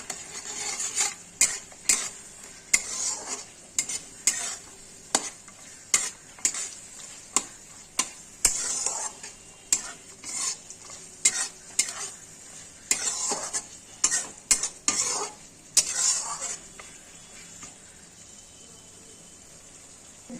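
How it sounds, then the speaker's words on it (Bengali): Dried soybeans are stirred into frying spices in a pan, with a spatula clicking and scraping against the metal in a steady rhythm over a thin sizzle, fading out near the end. "শুকনো সোয়াবিন এগুলো দিয়ে দিলাম এখন ভালো করে নাড়াচাড়া করব"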